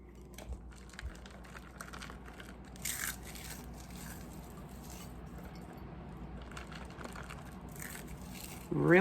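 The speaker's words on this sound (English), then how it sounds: "gonna crunch up some of that French fried onion" French fried onions crushed by hand produce soft, repeated crackling and crunching, quiet and close, with a few louder crinkles and a brief voice in the background.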